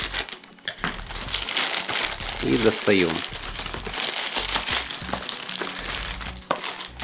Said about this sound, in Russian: Аккуратно ножиком разрезаем упаковку